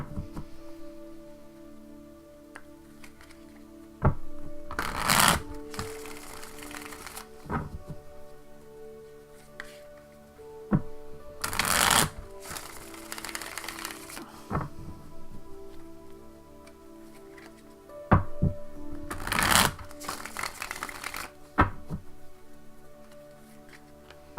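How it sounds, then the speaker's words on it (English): Cards riffle and shuffle in several short bursts, with soft taps and handling noises between them in a quiet room. "Just give me a moment to shuffle the cards and center myself here."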